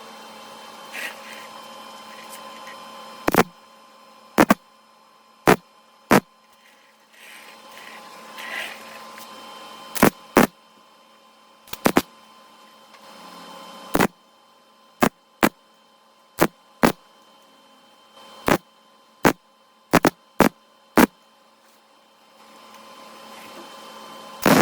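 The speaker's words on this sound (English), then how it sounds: "we'll go ahead and we'll get some more welds on here" Short bursts of welding on a replacement cab corner of a 1987 Chevrolet S10 truck, brief sharp crackling zaps repeated irregularly over a steady background hum.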